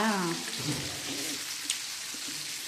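Food fries in hot oil with a steady sizzling hiss under a voice talking at the start, close to the pan.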